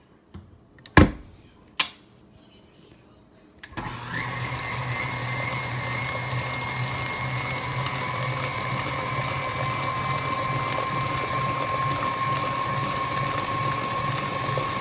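An electric mixer beats oil-rich pumpkin bar batter. After a few clicks and knocks, the motor starts and holds a steady mechanical whir with a humming drone through to the end.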